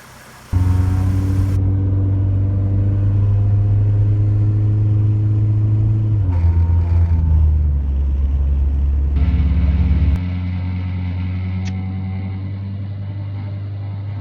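Car driving along a road after a head gasket repair, a steady loud engine drone with a gear change partway through, then a lighter, quieter cruising hum near the end; no talking.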